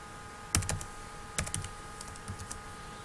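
Keys on a computer keyboard clatter in a few quick bursts while a formula is entered in Excel, close-up crisp clicks in uneven clusters with pauses between, and no talking.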